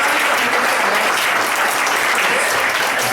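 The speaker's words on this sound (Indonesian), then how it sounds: "Boleh tepuk tangan?" An audience at a Prudential agent gathering claps steadily and loudly for a few seconds, a dense, even wash of applause with no voices on top.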